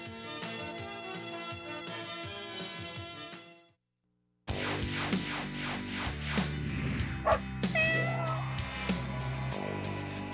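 Kittens at the Hazleton Animal Shelter meow, mixed with dog barks and yips. The calls are mid-distance and overlapping, come after a brief silent gap, and continue over a busy background.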